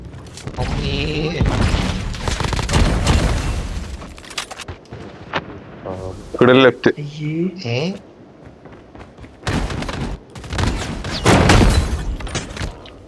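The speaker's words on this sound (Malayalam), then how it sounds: "10 വെടി വെച്ച് അവനെ കൊല്ലാൻ." Gunfire crackles in a Call of Duty Mobile search-and-destroy match, with bursts of shots and booms mixed among players talking loudly over the game.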